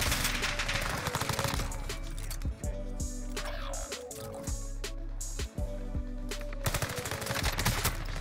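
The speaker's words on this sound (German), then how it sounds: "Warum snipen die denn schon wieder?" Sniper gunfire in the video game Call of Duty: Warzone, with dense, repeated loud shots and bursts cutting through a constant heavy rumble of battle, several sharp cracks standing out over the noise.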